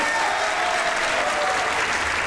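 A comedy show audience claps for a contestant, a dense, loud burst of applause that stays steady and continuous without any break or speech.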